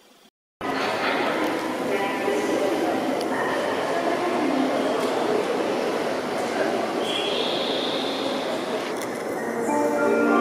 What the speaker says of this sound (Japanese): まもなく2番乗り場に本通り行きの電車が入ります。